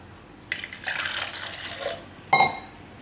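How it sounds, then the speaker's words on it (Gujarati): Water pours into a bowl of flour for aloo palak paratha dough in a steady splashing stream lasting under two seconds, followed by a sharp clink of a vessel, close and fairly loud. "તો આમાં આપણે થોડુંક પાણી નાખી લેવું"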